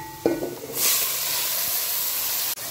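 Red chili powder hits hot oil with a sudden loud sizzle and hiss that swells and holds steady, a close and continuous frying sound with no talking over it.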